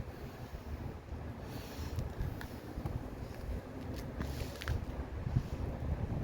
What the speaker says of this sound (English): It's a swirling wind.